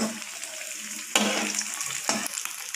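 Bird nest bites frying in hot oil, a steady soft sizzle broken by two sharp bursts of crackle as the pieces are flipped in the pan.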